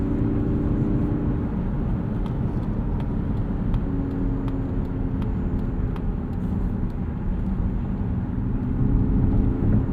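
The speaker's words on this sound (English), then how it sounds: "The electric noise is actually kind of loud in some situations." Steady in-cabin drone from a 2022 Mazda MX-30 Premium Plus FWD electric car on the move, a continuous whir with faint tonal motor whine layered over road and tire rumble, constant and fairly loud throughout.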